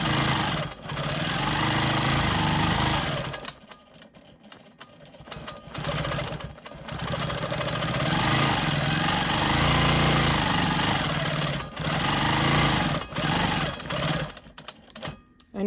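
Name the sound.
sewing machine quilting smoky swirls in light gray fabric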